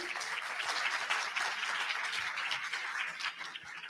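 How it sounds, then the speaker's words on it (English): Steady applause from an audience at the SUNRISE summit on teaching and student mobility, a dense even patter of many hands clapping together that holds at a moderate level throughout without a break. "Last round of applause"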